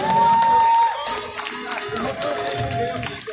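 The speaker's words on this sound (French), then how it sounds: "Merci, on peut l'applaudir encore une fois." A crowd at the FISE 2019 expert final, an action-sports contest, claps and cheers for a rider, a steady burst of applause and noise from the audience with a voice over a loudspeaker on top.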